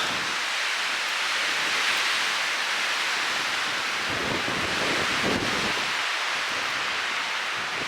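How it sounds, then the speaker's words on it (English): Strong gusty wind of around 40 to 50 mph at a sheltered campsite, a constant loud roar with surging gusts and microphone buffeting, no talking. "it's going to be gusty, 40-50 mile an hour gusts"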